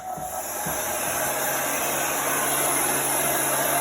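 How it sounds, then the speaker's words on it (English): A heat gun drying a craft transfer, a steady, loud blowing whoosh with a hissing motor drone, constant and unbroken throughout, nearby and with no talking. "So this is a heat gun."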